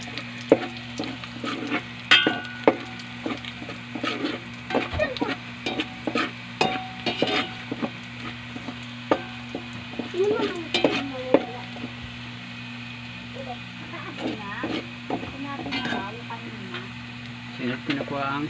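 Onion sautéing in a pan, with repeated close scrapes and clinks of a spatula over a soft sizzle, under a steady background hum and a person talking.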